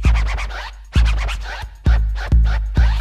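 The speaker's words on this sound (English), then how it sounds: "My man can cut and scratch" Record scratching in a 1988 hip-hop track, with four sharp rhythmic scratch bursts, each followed by a bass hit, cut tightly to the beat.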